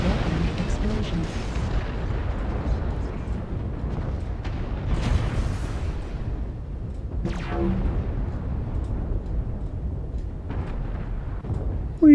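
Artillery strike explosions in the mech combat game Mechwarrior Online boom and rumble in a dense, continuous barrage, with sharper bursts cracking through at intervals.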